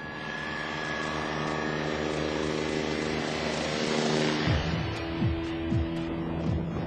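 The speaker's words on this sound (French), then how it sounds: "40 hélicoptères interviennent par tous les temps, de jour comme de nuit" A civil defence rescue helicopter flies overhead, its engine whine and rotor drone steady and loud, then the pitch sweeps down as it passes by.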